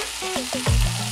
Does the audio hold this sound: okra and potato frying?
yes